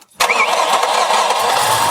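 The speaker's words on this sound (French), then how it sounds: "on enfiche le compressiomètre et on fait démarrer le moteur" A car engine cranks with a compression tester fitted, a sudden loud, dense mechanical churning that starts abruptly and holds steady and close for the rest of the moment, with no talk.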